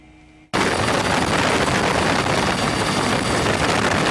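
French helicopter evacuating citizens from Haiti, its loud steady rotor roar starting abruptly and continuing without a break, close and dominant with no voices.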